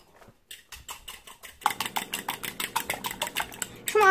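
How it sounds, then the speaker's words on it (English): Eggs being scrambled for an omelette, a fork or whisk rapidly tapping against a bowl in quick, regular clicking strokes that start sparse and become a fast, steady beating. "Now, just going to want to scramble a couple more times"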